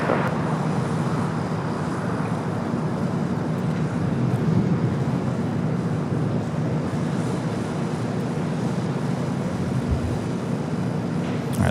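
A United airliner rumbles in to land on runway 25 left at LAX, a steady, broad engine roar heard from a distance that holds at an even level throughout.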